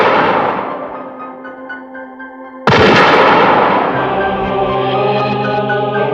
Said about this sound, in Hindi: गोली चला चौधरी।